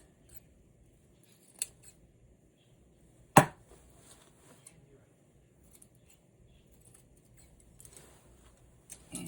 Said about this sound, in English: I'm going to cut a big piece of this out of the dress.